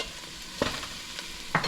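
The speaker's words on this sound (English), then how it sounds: "So I'm going to go ahead and add my garlic to that." Garlic goes into a pot of translucent onions and a steady hiss of frying runs throughout, with a few brief clinks and stirring knocks, close up and without voices.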